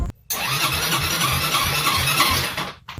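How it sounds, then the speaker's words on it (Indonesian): A motorcycle engine starts after a brief pause, catching quickly into a steady, close running rumble for a couple of seconds before dropping off. "Jika kalian kesulitan untuk menyalakan motor kalian"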